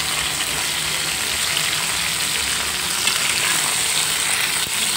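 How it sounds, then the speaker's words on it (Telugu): Raw banana slices, cut into rounds, fry in hot oil with a steady, dense sizzle that stays loud and even throughout, with no talking. "దోరగా వేయించుకోవాలి"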